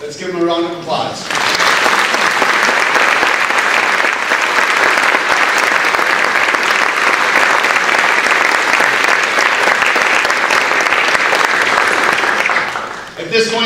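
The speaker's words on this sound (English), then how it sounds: "Let's give them a round of applause" A high school gym crowd at a National Honor Society induction breaks into loud, sustained applause, dense and steady clapping for roughly twelve seconds before a voice briefly returns at either end.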